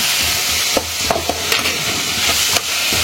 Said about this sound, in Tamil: இப்போ தக்காளி நல்லா வதங்கிட்டோம்